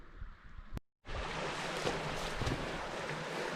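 Loud waterfall cascades on Mitchell Creek in the Wichita Mountains roar as a dense, continuous rush of water close by, cut by one brief silent dropout near the start.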